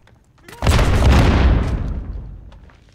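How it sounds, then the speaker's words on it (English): A grenade detonates in Call of Duty: Modern Warfare (2019): a single loud, close boom bursts out and rumbles away over a couple of seconds. "Throwing grenade."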